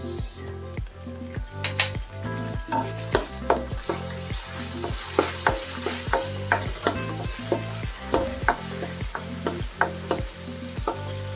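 Crab and mussels with vegetables fry in a pan while a utensil stirs them in a steady rhythm, each loud scrape landing about twice a second over a constant close sizzle.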